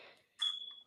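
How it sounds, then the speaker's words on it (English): A smoke detector gives one short, high, piercing electronic beep indoors, faint and brief, after a soft muffled noise. "I still hear that smoke detector."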